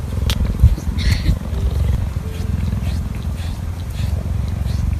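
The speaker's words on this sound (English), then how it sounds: "Did you know that cheetahs could purr?" A cheetah purring steadily up close, a continuous low rumbling drone that holds throughout with slight pulsing and a few faint higher noises above it.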